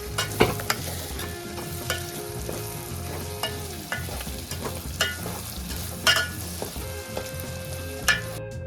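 Spiny gourd fries with chili powder, turmeric and salt in a pan, a close, steady sizzle punctuated by repeated spoon scrapes and knocks against the metal as it is stirred.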